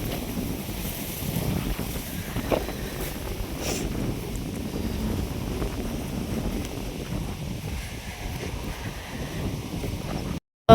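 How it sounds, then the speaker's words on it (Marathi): Strong wind gusting across an open field next to a sugarcane plot, a loud continuous roar buffeting the microphone with rising and falling gusts, with no voices. "वारं भरपूर सुटले"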